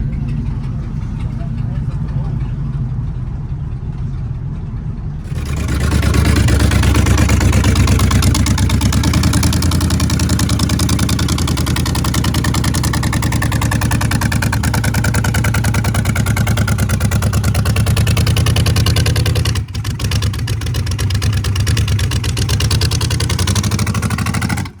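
A 1962 Chevy truck at a parts store, its engine idling with a loud low rumble that steps up and stays steady, with talking over it.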